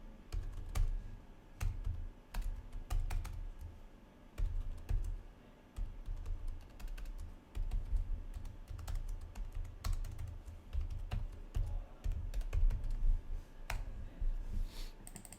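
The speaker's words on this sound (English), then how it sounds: "I'll type the formula out again for your reference" Steady, close typing on a computer keyboard, with quick bursts of clacking keystrokes and brief pauses and some heavier key presses over a low background hum, with no talking.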